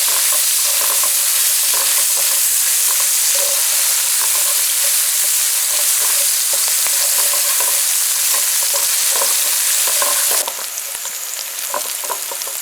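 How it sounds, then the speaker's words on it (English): Onions and scallions hit hot curry oil in a pan and fry loudly with a dense, hissing sizzle and bursts of stirring. The sound stays close and strong, then drops a little near the end. "in goes our onions and scallions. Fry this up a little bit first"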